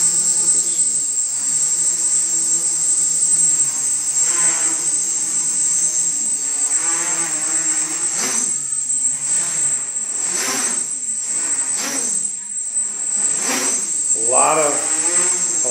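Motors on an Iconic-X frame multirotor with OpenPilot CC control whine at a steady, high, buzzing pitch throughout while hovering close by, with voices talking over the drone.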